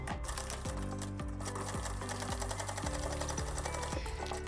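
A sewing machine stitches a seam along the zipper of jeans with a rapid, regular mechanical chatter, close up, and its motor pitch shifts slightly as the stitching speeds and slows.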